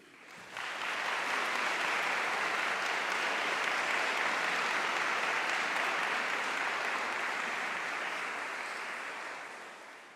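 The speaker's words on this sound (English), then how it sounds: "I'd just like to ask you to give a round of applause in thanks to colleagues in the hall and the" Graduands at a summer university graduation ceremony applaud colleagues in the hall, a broad wash of clapping that swells in quickly, holds steady and loud, then tapers slightly at the end.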